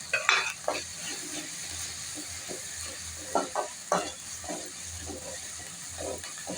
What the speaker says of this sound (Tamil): வெங்காயம், இஞ்சி பூண்டு எல்லாம் நல்லா வதங்கிச்சிங்க